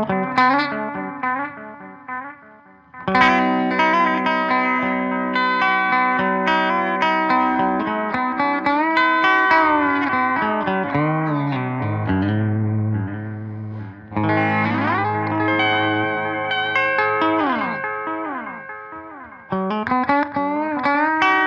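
Electric guitar run through a Biyang AD-10 on a spacey delay setting: chords and melodic lines ring out continuously with trailing repeats and a washy, chorused shimmer, loud and close, without talk.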